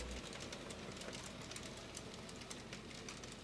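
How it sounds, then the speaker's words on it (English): An HOn3 narrow-gauge model freight train rumbles past the roundhouse at Salida on a Marshall Pass layout, giving a faint, steady mechanical whir and clatter that holds evenly throughout with no talking. "The freight train rumbles past the roundhouse at Salida."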